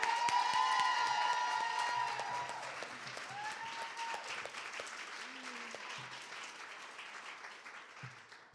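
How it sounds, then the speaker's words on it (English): Applause and cheering at an award celebration gala, a fairly soft wash of clapping that gradually thins out, with tonal sounds and voices mingling in the background. "One more round of applause for Ariana."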